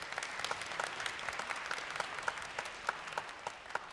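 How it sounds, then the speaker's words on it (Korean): An audience applauds to welcome a lecturer onto the stage at a live televised university-admissions briefing, a fairly quiet, even patter of many hands with scattered sharper claps for the full length. "박수로 모시겠습니다"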